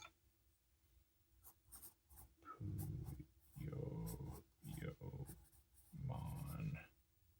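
Pencil scratching across paper in bursts of steady strokes, close and fairly quiet, with short pauses between passages of writing.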